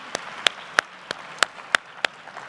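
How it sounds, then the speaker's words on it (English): Seven sharp, separate claps ring out at a steady rhythm over a quiet room at a maternal and infant health summit, each one distinct rather than a full crowd ovation. "Can we please give Mayor Bowser a round of applause?"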